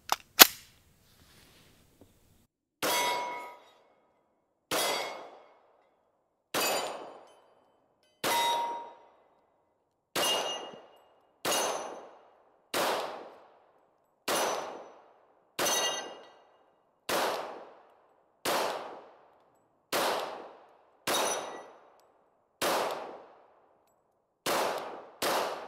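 Glock 21 Gen 4 pistol fired at steel targets outdoors, about fourteen sharp shots spaced a second or two apart, each crack followed by a ringing metallic clang that decays quickly, no talking.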